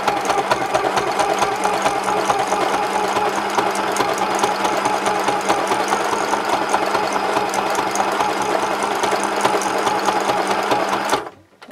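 A sewing machine runs steadily through a zigzag stitch on a luggage tag project, a loud close rapid mechanical chatter that stops abruptly near the end, with no talking.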